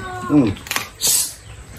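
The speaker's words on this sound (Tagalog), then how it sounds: "Pusa na ito ah." A young cat gives a short, rising meow, followed by brief clicks and a sharp high squeak, close by and fairly loud with no talk.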